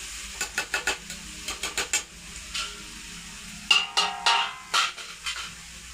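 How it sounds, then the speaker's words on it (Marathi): Onions sautéed in a pan over a high gas flame for a bitter gourd (karela) bhaji: rapid bursts of spatula scraping and clinking against the pan ride over a steady, soft sizzle, with no talking. "आपण गोल्डन रंगावर येईपर्यंत परतून घेऊया आणि गॅसची फ्लेम हे मोठीच ठेवायची आहे."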